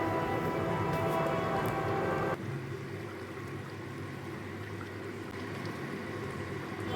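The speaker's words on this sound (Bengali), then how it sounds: "এবার ঝোলটা ফুটে উঠলে এক করে মাছগুলো সব ছেড়ে দেবো।" Fish curry broth boils in a pot with a continuous bubbling rush that drops to a softer, steady simmer partway through, with no talking.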